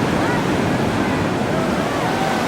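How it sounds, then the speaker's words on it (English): Ocean surf at Crescent Bay rolls in as a steady, loud wash of breaking waves with wind noise over the shore and no clear gaps. "My kids ride these waves all the time"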